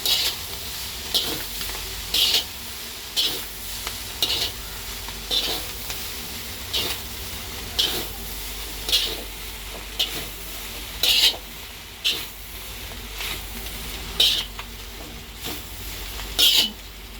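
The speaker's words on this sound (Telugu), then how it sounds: "రెండు చెంచాలతోని ఇట్లా మనం వేసుకోవాలి ఇట్లా చేసుకోవాలి అట్లయితే బాగా మంచి మొత్తం కలిసిపోతుంది" Noodles stir-fried in a hot pan and tossed with two spoons: steady sizzling under sharp, regular metal scrapes and clinks roughly every second, close and fairly loud, with no talking.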